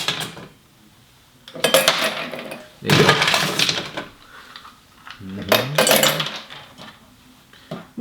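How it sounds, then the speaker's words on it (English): Ice cubes clatter into a balloon glass for an Aperol spritz, several loud close bursts of clinking and rattling with short pauses between them, and a voice speaks briefly. "Let's get some ice in here."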